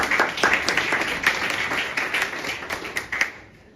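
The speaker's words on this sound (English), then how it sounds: "Please give them a round of applause." Audience applause for two speakers being welcomed onstage at a conference panel, steady dense clapping throughout that thins and fades toward the end.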